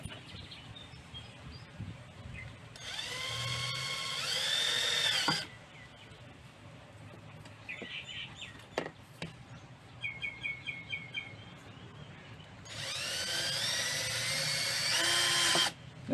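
Two long bursts of a high-pitched power drill whining into material, drilling holes for a pond water system, separated by quieter clicks and faint chirps, the drill loud and close.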